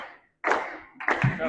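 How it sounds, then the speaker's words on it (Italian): Volleyball fans at the Palantenore arena clap and cheer in two short loud bursts separated by a brief gap, with crowd noise close by. "Tanto tifo qui al Palantenore"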